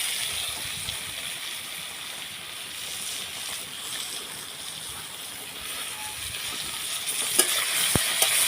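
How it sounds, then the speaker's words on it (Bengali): Eggplant pieces frying lightly in a pan give a continuous soft sizzle at close range, with a few small utensil clicks near the end; no one speaks. "বেগুনটাকে আমি হালকা করে ভেজে নেব।"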